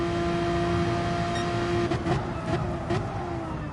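Race car engine droning steadily on a circuit in a GT World Challenge racing video game at the Red Bull Ring in Austria, with a sustained tone and brief shifts or passing roars near the end.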